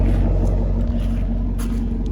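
A 2017 Chevrolet Camaro Fifty's engine idling with a deep, steady rumble, close and loud, unbroken for the whole stretch with no talk.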